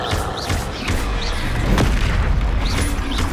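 A Confringo blast spell explodes in the video game Hogwarts Legacy, a heavy booming rumble under dense continuous game sound with faint whooshing effects.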